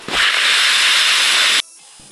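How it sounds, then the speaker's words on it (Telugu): A hard, loud breath blown through a bubble wand in a Peppa Pig cartoon makes a steady rushing hiss that lasts about one and a half seconds and then cuts off abruptly, leaving quiet behind it. "గట్టిగా ఊదు."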